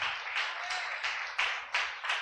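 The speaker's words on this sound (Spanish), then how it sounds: "Denle una ofrenda de palmas fuerte al Señor." A church congregation claps together in a strong, steady rhythm, with loud unison bursts repeating about twice a second.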